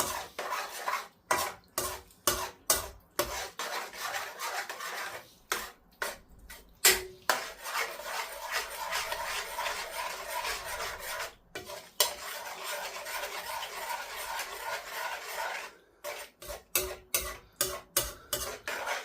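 Ingredients for a creamy Mexican bake being stirred and mixed in a dish on the heat, with repeated spoon scrapes and clinks against the pan in uneven bursts and a steady low sizzle between them, close up and without speech.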